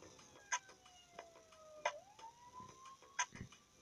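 A police car siren in Public Transport Simulator, a faint wailing tone sweeping slowly up and down, broken by a few sharp clicks.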